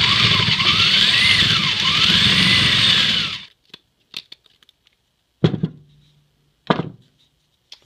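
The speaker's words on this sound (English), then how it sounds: "I think I'm going to finish that off with a hand drill" Electric drill boring through lemon wood for a joiner's mallet, a steady loud whirring grind for about three seconds that then stops, followed by several sharp knocks and clatters.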